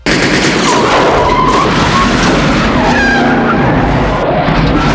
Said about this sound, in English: now there's a full-on car chase and shootout